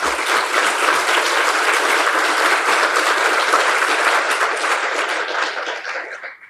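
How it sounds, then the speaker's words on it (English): An audience at a mass timber conference in Canada applauds, dense and sustained clapping at full strength that fades away in the final second. "why don't we take a moment to applaud Luigi for all that work done as well."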